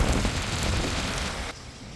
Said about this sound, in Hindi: get this rain, solid बारिश हो रही है